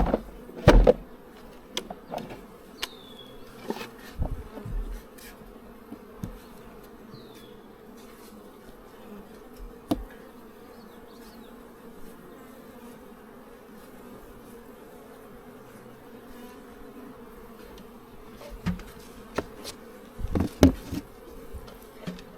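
Honeybees buzz steadily around open beehive colonies during spring buildup, a soft continuous drone with occasional louder bees passing close to the microphone and a few handling knocks.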